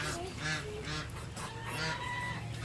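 A brown duck about to be slaughtered gives repeated loud, harsh honking calls up close, one after another in quick bursts, with no talk over it.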